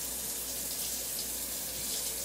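A kitchen tap runs steadily while salmon pieces are rinsed under it, a close, continuous hiss of water without talk.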